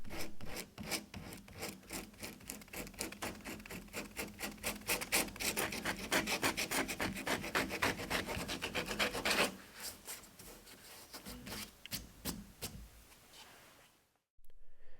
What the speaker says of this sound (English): you can smooth out some of the fraying in the more saturated portions with sandpaper